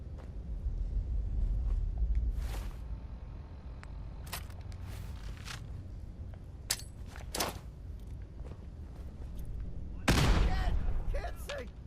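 Gunfire in the Fallout 4 video game, with sharp shots cracking out in scattered bursts, some single and some in quick clusters, over a low rumbling background.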